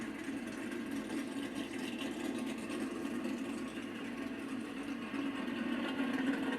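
NASCAR stock car engines idling after the start command at the All-Star Race at North Wilkesboro, a steady distant low rumble that swells slightly toward the end.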